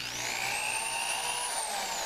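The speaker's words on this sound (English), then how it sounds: "And I got the drill speed turned down" A power drill set to a reduced speed runs steadily with a high, even whine and a smooth motor hum, close and constant with no pauses.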